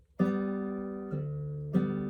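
Three ringing acoustic guitar notes plucked one after another, each sustaining clearly with no voices.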